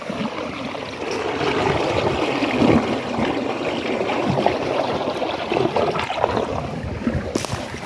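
Floodwater from the Latorytsia river, swollen by heavy rain, rushing across fields and over a washed-out road, a continuous close, turbulent wash of flowing water with no speech.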